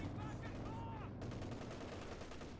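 MG34 machine gun firing in a Stalingrad real-time strategy battle game, rapid bursts of gunfire close and loud amid battle noise, with a faint voice underneath.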